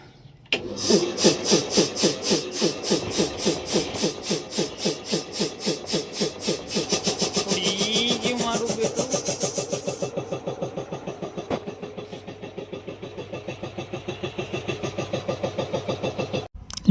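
An air compressor chugs in fast, regular pulses while pumping air into a tyre at a tyre puncture repair workshop, then shifts to a rougher hiss as the rhythm slows and fades.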